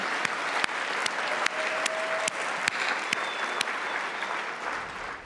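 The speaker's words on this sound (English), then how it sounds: "please, a big round of applause to Staff Sergeant Aaron, Corporal Sophie, and First Lieutenant A." Applause at the Friends of the IDF New York gala in 2019: a large room of steady, sustained clapping with a few sharper individual claps, continuous for several seconds and mostly without talk.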